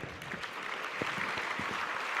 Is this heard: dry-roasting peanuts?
no